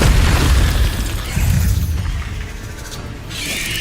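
Fire spell combat in the Hogwarts Legacy video game, a loud, continuous roar of bursting, crackling blasts and booms that fills the whole stretch with dense, heavy noise.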